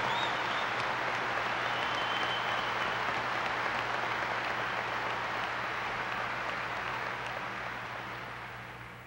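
A large audience applauds in a hall at a national affairs briefing, a dense, steady roar of clapping that holds for about nine seconds before easing slightly at the end.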